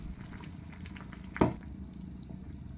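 A pot of vegetable broccoli soup simmers quietly with soft, steady bubbling as dissolved cornflour is stirred in, and a single sharp clack of a utensil against the pot stands out once.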